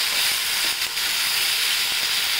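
Besan, chopped onion and green chilli sizzling in hot oil while being sautéed, a steady soft frying hiss with faint clinks of stirring, no talking.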